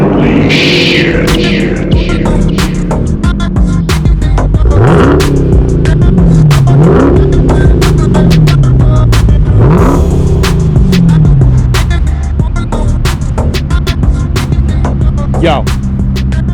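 Dodge Challenger SRT Redeye revving hard, its supercharger whine rising and falling with each blip, loud and close, with repeated sharp clicks and a voice briefly heard.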